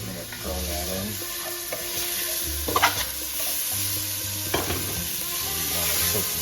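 Red onion dropped into a hot pan with a muddled mixture for lentil soup, sizzling steadily up close, with stirring and scraping clatters of a utensil against the pan.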